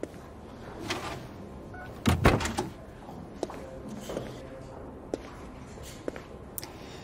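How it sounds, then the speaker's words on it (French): A door is pushed shut with one solid thud and rattle in the middle, surrounded by quieter knocks and small room noises, with no talking. "Entre et ferme la porte, Nuno."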